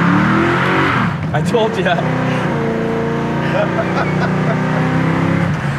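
A 1967 Chevelle Malibu engine revs hard and roars close by, tires spinning, pitch rising and falling with a brief screech, while a voice speaks briefly over it.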